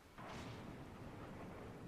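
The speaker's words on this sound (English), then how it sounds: "Okay, so there's also thunder in the game." A broad deep rumble of thunder rolls in and keeps going, loud and close, during a stormy night scene in the horror game Witch on the Holy Night.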